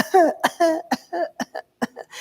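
A run of about eight sharp, forceful coughs in close succession, loud and near, each a short harsh burst with brief gaps between.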